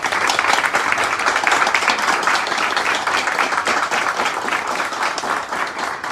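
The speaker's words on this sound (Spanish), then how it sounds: "un gracias muy especial a la dueña de casa, la señora Isán Gallet, para quien pido un gran aplauso" Dense, steady applause from an indoor audience for the hostess of the house, sustained at full strength throughout with no pause.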